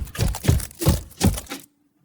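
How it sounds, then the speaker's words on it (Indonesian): A wooden board breaks under Wing Chun strikes in a horror film, heard as four sharp cracking thuds in quick succession before abrupt silence. "Gerakan Wing Chun ngasal Nick membuat sebuah papan albiso jebol seperti ini"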